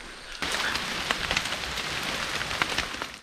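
Steady monsoon rain patters on a surface in the Kalanki hills of Kannur, a soft continuous hiss dotted with closer drips and drops.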